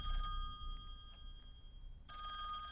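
A telephone rings inside the horror video game Song of Horror, set in a mansion. Two bright electronic ring bursts sound alone, one at the start and one near the end, with a quiet gap between them.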